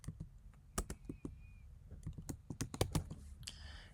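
Typing on a computer keyboard while writing a simple Python test program, with irregular bursts of sharp key clicks and a few louder presses, close up and with no talk.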